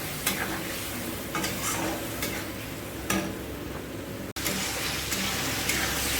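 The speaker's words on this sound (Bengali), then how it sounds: "এখন এগুলো আমি ভালো করে কষাই নেব" Spices with turmeric and salt sizzle steadily in a hot pan while a utensil stirs and scrapes in repeated strokes, close and fairly loud, with no talking.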